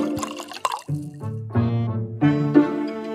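Liquid is poured from one container into another, making several short gurgling, bubbling pours with brief pauses between them, close and moderately loud.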